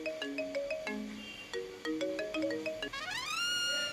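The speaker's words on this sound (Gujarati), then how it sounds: "જો તો ફોન આવ્યો, કોણ છે?" A mobile phone plays a melodic ringtone for an incoming call, a bright tune of quick repeated notes ending in a rising sweep, sounding alone at moderate volume.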